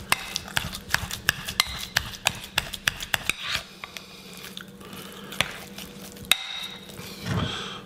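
Ingredients for a nut-free cheese ball with squirts of Worcestershire sauce being stirred and mashed by hand, with a run of sharp clicks and taps against the bowl early on, then softer squishing and scraping, close and alone.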